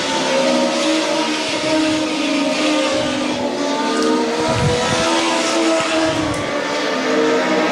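INEX Legends race cars roar around the track at Evans Mills Motorsports Park in a feature race, engines droning steadily at high volume with rising and falling revs and passing cars.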